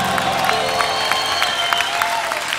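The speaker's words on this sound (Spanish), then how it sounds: "yo quiero pedir un fuerte aplauso para estos grandes músicos de acá de Colombia," A crowd at a salsa concert in Medellín, Colombia applauds the musicians with steady clapping and some cheering while sustained tones from the band ring underneath.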